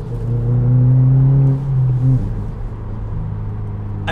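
A 2022 Subaru WRX accelerates around a corner, its engine droning loudly and climbing in pitch, then dropping off as the throttle eases into a lower, steadier rumble.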